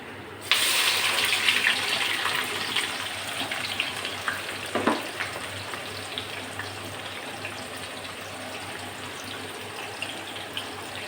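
Sliced onions are dropped into hot oil in a pan for a country chicken curry, bursting into a sudden loud sizzle that settles into a steady close hiss with a few crackles.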